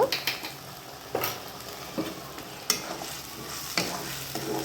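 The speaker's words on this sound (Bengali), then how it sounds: "এইটাকে এবার ভালো করে কষিয়ে নেওয়া হবে একটু রসুন বাটা রসুন বাটা" Garlic paste sizzles in a pan and is stirred, with a soft steady frying hiss broken by repeated scraping clicks of the spoon against the pan. Up close and fairly quiet, with no talk.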